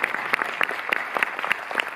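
A cinema audience applauds the film's guests, a moderate crowd of hands clapping in a brisk, slightly uneven patter with distinct individual claps popping through.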